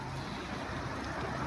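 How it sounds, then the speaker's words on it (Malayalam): Rainwater pours down steadily from a leaking highway flyover at Kazhakuttam onto the road below, a dense, continuous rushing splash with no voices. "മുകളിൽ നിന്ന് വെള്ളം വീഴുന്നത്."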